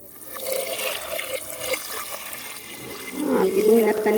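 Water poured into a pot for rice porridge, a mutton iftar kanji, rising to a fuller splashing pour toward the end, close and moderately loud.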